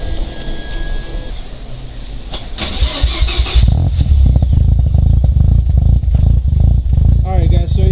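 A Mazda RX-7 FC3S rotary engine with a custom exhaust cranks and fires up, then settles into a loud, throbbing idle with burbling exhaust, close to the microphone.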